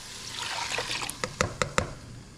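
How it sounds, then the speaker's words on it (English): Beef broth is poured into a pot of browned beef for American goulash, a short liquid trickle and splash followed by a few distinct drips or clinks near the end. "Okay, to this, I'm going to add 2 cups of beef broth."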